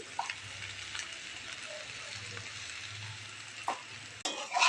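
Bitter gourd slices with dried red chilli, turmeric, slit green chillies and salt fry in hot oil in a wok, giving a steady close sizzle with a brief clatter of stirring near the end.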